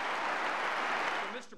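Heavy crowd applause at an NRA annual convention in Houston, a dense wash of clapping from many hands that holds steady and then tapers off at the end.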